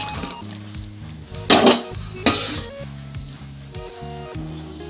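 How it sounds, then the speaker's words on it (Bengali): Chopped vegetables, potato and beans among them, go into a pot of hot water with a couple of sharp clattering clinks and splashes over a steady low kitchen hum. "জল গরম হয়ে এসেছে, এবার আমি সবজিগুলো এর মধ্যে দিয়ে দেব।"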